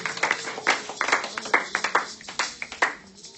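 A church congregation applauds Jesus with a burst of rhythmic hand clapping, fairly close and lively, irregular claps overlapping for a few seconds before thinning out.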